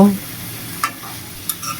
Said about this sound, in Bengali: এখন আলুর সাথে চিকেনটা ভালো মতে মিশিয়ে দেব